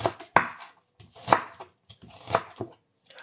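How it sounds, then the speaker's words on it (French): A knife chops an onion on a cutting board: about half a dozen sharp, close knocks at an uneven pace, separated by short silences. "Là, on a coupé l'oignon, comme vous voyez là."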